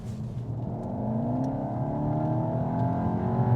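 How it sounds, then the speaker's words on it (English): A 2023 Skoda Karoq SUV engine revs up steadily, with artificially enhanced engine noise, its pitch climbing over a few seconds, close and continuous with no talking. "How much do you like fake engine noise?"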